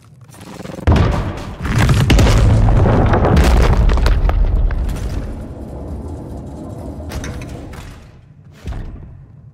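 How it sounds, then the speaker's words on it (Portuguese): A grenade explosion in the horror game Scorn, a heavy booming blast followed by a long rumbling roar that slowly fades, then a final thud, loud and without speech. "Aqui eu vou ter que abrir com a granada"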